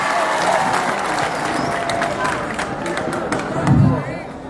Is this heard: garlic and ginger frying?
no